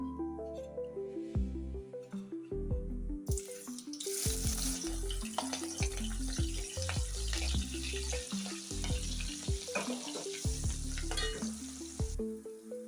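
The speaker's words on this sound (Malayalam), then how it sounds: "ഇനി നമുക്കിതിലേക്ക് പച്ചമുളക് ഇട്ട് വറുത്തെടുക്കാം" Green chillies fry in oil with a crackling sizzle that swells loudly a few seconds in, punctuated by repeated knocks and scrapes of a stirring spoon against the pan.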